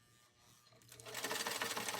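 A vintage Singer Spartan 192k sewing machine stitches through tissue paper, starting from near silence and rising into a rapid, rhythmic mechanical clatter that grows loud and close.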